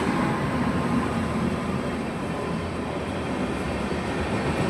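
A crowded superfast express train pulls into platform 3 at Tenali station, a loud, steady rumble of wheels and carriages that stays continuous and close for the whole stretch.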